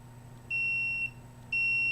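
Electronic alarm beeping when a cell phone is activated inside a home unit: two long, steady high-pitched tones, each about half a second, separated by a short gap, clear over a faint electrical hum.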